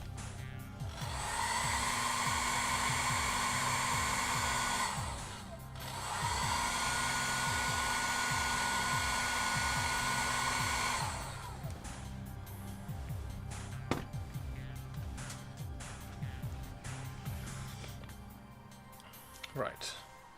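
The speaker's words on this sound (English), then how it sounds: "let's just get a quick hairdryer on this just to make sure it's dry" A hair dryer blows on freshly painted miniatures with a loud, steady whooshing whine, running for about five seconds, pausing briefly, then running again before cutting off, after which someone talks over quieter handling noises.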